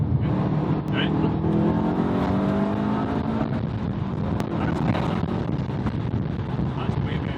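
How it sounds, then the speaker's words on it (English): A Subaru WRX running antilag revs hard, its engine note climbing under steady wind buffeting, with sharp exhaust crackles and pops breaking through the roar. "it retards the ignition timing so you get crackle"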